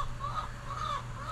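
Video game chickens clucking with short, bright calls repeated over a steady low hum, continuous and moderately loud.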